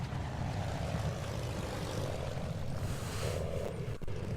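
A moped engine in the video game MediEvil: Resurrection, a steady low droning buzz held at moderate, fairly faint level without breaks.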